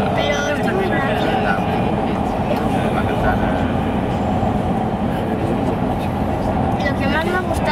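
Barcelona metro Line 9 train in motion, a loud sustained rumble and rolling roar filling the whole stretch, with people talking over it inside the car.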